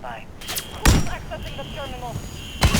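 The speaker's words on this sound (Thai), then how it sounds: "ระเบิดโดนระเบิด" Two sharp blasts ring out in Call of Duty: Modern Warfare 3, one early and one near the end, over game sound effects and chatter.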